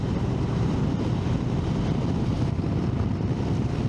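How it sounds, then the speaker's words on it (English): Wind buffeting a motorcycle helmet at around 90 to 100 km/h, a continuous loud low roar and rumble with no talking. "that's the wind hitting the helmet"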